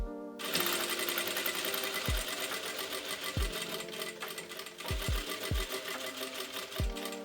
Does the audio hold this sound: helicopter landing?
no